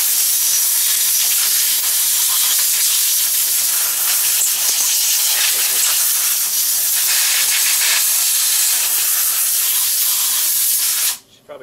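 Compressed air blasts debris off a chainsaw during servicing, a loud, steady, close-up hiss held for about eleven seconds before cutting off sharply.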